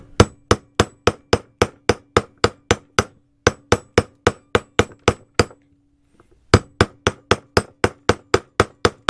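Sharp, rapid hammer taps work around a pump seal on a Keene 4-inch motor, loud and close in a steady run of clinks, stopping briefly for a short pause before resuming at the same brisk pace.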